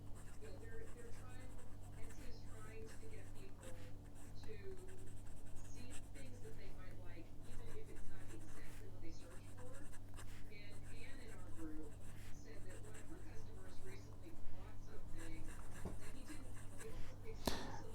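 A Cross Bailey Light fountain pen with a stiff medium steel nib scratches softly across paper in quick strokes and short bursts, close up over a low steady hum.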